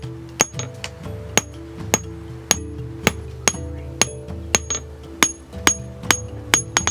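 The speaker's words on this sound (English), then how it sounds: "Further processing is carried out by mechanical forging into the desired shape with" A hammer mechanically forges metal into shape at Lake Eyasi, about fifteen sharp ringing strikes in a steady, even rhythm, close and clear over a faint humming background.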